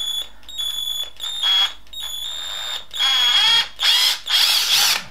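Battery-powered Meec Multiseries 18-volt driver whirring in short, repeated bursts as it backs screws out of a Meec Multiseries 40V 4Ah battery pack casing, close and loud with brief pauses between runs.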